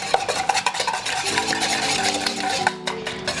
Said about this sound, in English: Then mix, mix, mix, mix, mix.